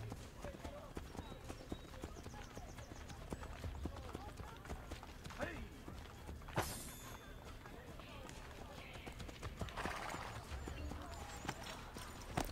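Horse hooves clip-clop steadily behind the player in Assassin's Creed: Brotherhood, a running rhythm of moderate loudness set against busy town ambience, with an occasional faint whinny.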